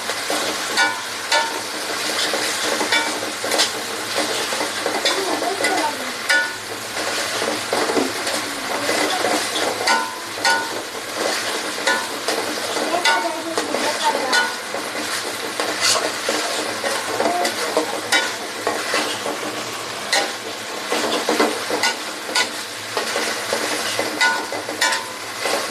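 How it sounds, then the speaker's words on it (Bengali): Spices frying in hot oil for a beef fry dish, giving a steady, dense sizzle with stirring scrapes throughout, fairly close and continuous with no talking. "এই মশলাগুলো একটু তেলে ভেজে নিব"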